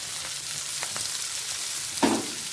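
Onion, ginger and garlic sizzle in a frying pan for chicken bharta: a constant near hiss with a couple of faint ticks and a short stirring scrape toward the end, with no voices.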